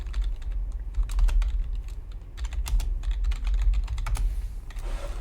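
Fast typing on a computer keyboard during a WoW Classic session, a dense run of close clicking keystrokes over a low steady hum, with no speech.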